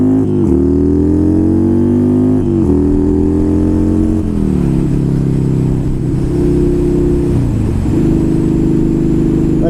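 A motorcycle engine revs steadily under load while riding, a loud continuous drone with its pitch climbing and falling through gear changes, close and without any voices.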